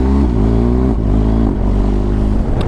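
A BMW R1250 GS Adventure motorcycle fitted with an Arrow exhaust revs loudly and close, its engine note climbing and dipping in steady pulls with a deep throaty rumble.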